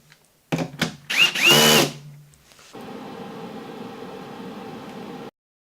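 A power drill drives bolts to fix a fretboard onto a fretless guitar neck, short loud bursts of whirring and screwing followed by a steadier, quieter run of the motor that stops abruptly; no voices.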